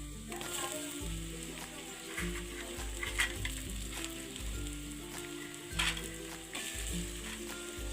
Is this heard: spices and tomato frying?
yes